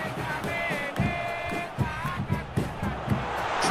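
A football stadium crowd chants and calls out for a player, a broad roaring mass of voices with rhythmic swells and bursts, under a match commentator's voice.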